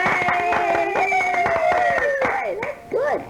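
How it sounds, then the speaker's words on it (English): Applause sound effect from a 1960s demo for a children's animated musical: a quick patter of claps under a prominent sliding, voice-like tonal line, ending in a short gap and a final swooping burst. "applause."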